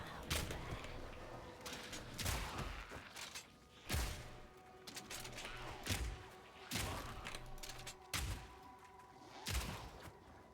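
Gunfire in a video game rings out as repeated loud bursts every second or so, close and punchy with thuds and mechanical clatter in between.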